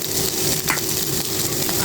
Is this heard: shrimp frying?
yes